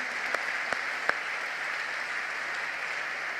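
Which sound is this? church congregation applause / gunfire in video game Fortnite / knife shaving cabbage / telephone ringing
church congregation applause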